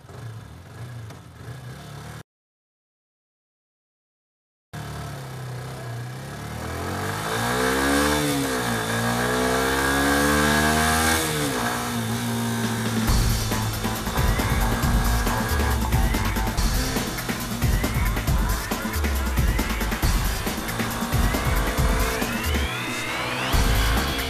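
A Yamaha YZF-R 125 motorcycle on a karting circuit, its engine revving and rising through the gears with whining pitch sweeps, a brief silent gap early on, then a loud sustained engine drone while riding.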